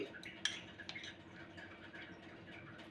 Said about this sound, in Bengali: এবারে আবারও ভালো করে ফেটে নেব।